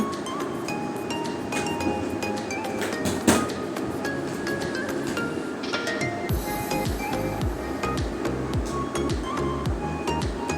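A cooking pot being covered with a lid while making vegetarian soybean kofta, with scattered light clinks and one sharper metallic clank over quiet kitchen background noise.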